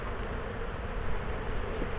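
Honeybees buzz steadily inside an open beehive during a summer inspection in Ohio, a dense, continuous close hum with no voices.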